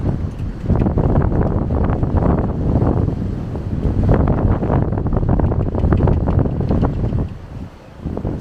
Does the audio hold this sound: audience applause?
no